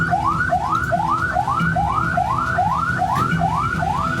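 An ambulance siren in Magelang, Central Java, blares loud and near, repeating a rising wail roughly twice a second without pause, over a low traffic rumble.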